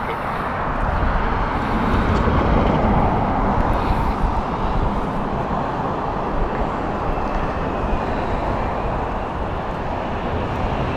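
An airliner on the Mumbai flight arriving at Heathrow, a broad, steady engine roar close and loud throughout, rumbling without a break.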